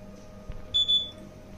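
A short, thin electronic beep pair from a KingSong electric unicycle sounds over a quiet background hum, with a faint tap just before.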